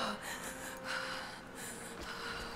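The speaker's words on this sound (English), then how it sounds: "she's actually coughing up water." Lara Croft gasps and coughs up water in the video game Rise of the Tomb Raider, with ragged wet breaths and sputters running under a steady game background.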